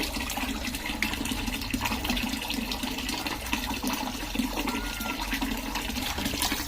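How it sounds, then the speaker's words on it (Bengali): Water splashes continuously over a dog being bathed and shampooed, a steady close rush of running water with no talking. "ঘাটের ওখানে জল দে"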